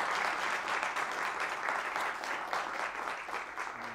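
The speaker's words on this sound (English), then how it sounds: "Big round of applause" A lecture audience applauds steadily after a talk on North Korea, the dense clapping staying loud and even throughout with no voices.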